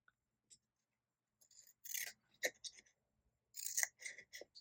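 Craft snips cut patterned cardmaking paper in short, quiet bursts of crisp snipping and rustling, scattered across the moment with brief silences between cuts.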